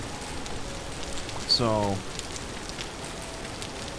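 Steady rain falling in the video game Vintage Story, a soft constant hiss throughout, briefly covered midway by a short spoken word.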